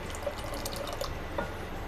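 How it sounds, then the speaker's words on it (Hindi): Water pours into a cooking pot of mutton for shorba, a steady splashing and trickling stream close by, with a few distinct drip-like plinks across the short pour. "शोरबा बनाने के लिए आपको जितना पानी चाहिए उतना डाल लें"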